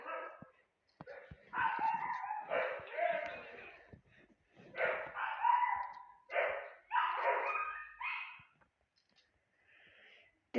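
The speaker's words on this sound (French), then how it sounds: "Désolé pour le bruit de fond, mes chiens sont excités à l'idée de voir mon beau-père." Excited pet dogs in a home bark and yip in repeated bursts as a family member arrives, the barking fairly close and loud with short pauses between volleys.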